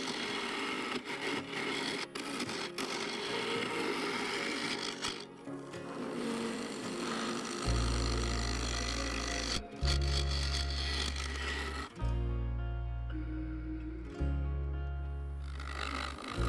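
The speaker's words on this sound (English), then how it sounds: "Having the tailstock supporting the bowl allowed me to continue removing the waste material without worrying about another catch." Woodturning lathe cutting an oak burl and resin bowl supported by the tailstock, a continuous rasping, scraping tool noise with a droning motor hum that comes and goes, close and loud, no talk.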